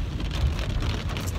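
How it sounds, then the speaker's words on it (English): Steady rain patters all around, a dense, even wash of drops with low rumbling underneath, no voices. "And it's raining."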